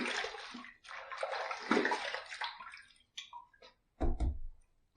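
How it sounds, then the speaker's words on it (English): Running water from a tap while a razor is rinsed during a wet shave, a steady close splashing stream for a few seconds, then broken splashes and a final gush. "Let's rinse."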